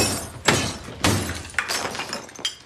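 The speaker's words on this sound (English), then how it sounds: "proceeds to smash it with his head 3 times, shattering it and cutting his forehead." A mirror shatters as an actor smashes his head into it in a film scene: several heavy, loud impacts with bursts of breaking glass and scattering shards, close and sharp.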